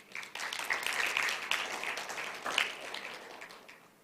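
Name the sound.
congregation applause in church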